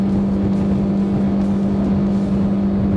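A Selva 600 Endeavour motorboat's outboard engine runs hard at about 5,800 RPM, a loud, steady, high droning whine with constant rushing wind and water noise, no voices over it.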